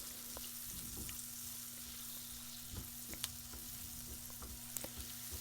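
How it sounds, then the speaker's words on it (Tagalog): Sliced garlic sautéing in butter in a pan, a soft, fairly faint continuous sizzle with a low steady hum underneath and a few light stirring clicks. "Lalagay natin po ang sliced garlic. Yan, gigisahin lang po natin siya dyan."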